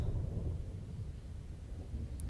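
Low rumbling thunder with steady rain on a rainy night, a continuous deep roll that stays loud throughout with no voices.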